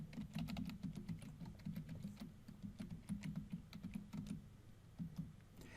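A password is typed on a computer keyboard during Red Hat Linux account setup: a quiet, close run of quick, uneven keystrokes with short pauses, and no voices.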